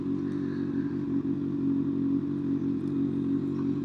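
A Kawasaki 636 sport motorcycle cruises steadily on a commute to work, its engine a loud, continuous low drone close to the microphone with faint wind and road clatter, no talk.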